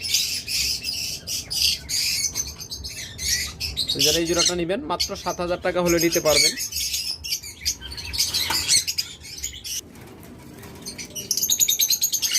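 Lovebirds in a breeding farm's cages, a nesting male and female pair among them, give repeated harsh squawks and high chirps close by, while someone talks over them for much of the time.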